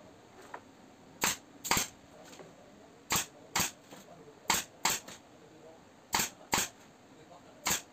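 Nail gun firing into an 18mm plywood door frame, about a dozen sharp close snaps in pairs and singles, with someone speaking softly between shots.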